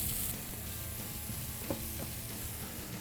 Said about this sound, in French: on peut voir que les oignons commencent à s'attendrir, à revenir, ils prennent une coloration